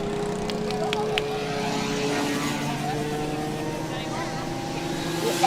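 A race car passes on the track at Whiteland Raceway Park during a club race, its engine drone rising and fading at mid distance under steady commentary.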